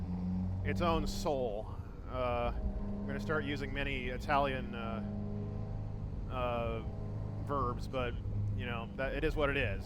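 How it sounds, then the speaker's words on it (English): Someone talks steadily over the low, continuous rumble of a Ferrari F355 GTS V8 engine idling and revving in the background. "It's why I love this car, is that glorious engine note."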